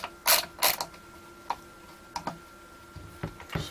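Screws are worked loose from an EverReady Sky Baron toy during restoration: a handful of close, sharp ticks and squeaky creaks from a screwdriver, spaced irregularly with quiet gaps between.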